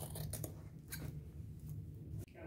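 Scissors snip through excess denim jeans fabric in a few quick, faint cuts, close by and quiet.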